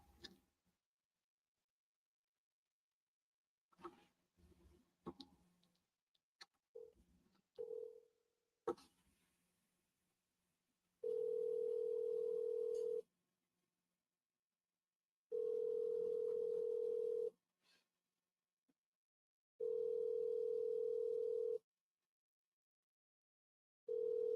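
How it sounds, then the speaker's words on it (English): Voicemail recording tones on a phone call: after some faint clicks and handling noise, a steady pure electronic beep sounds three times in long, evenly spaced bursts with silence between them. "At the tone, please record your message."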